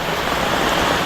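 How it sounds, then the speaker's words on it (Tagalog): Heavy rain pours down steadily over a flooded vegetable garden, a dense, continuous wash of close, loud rainfall with no voices. "Grabing ulan."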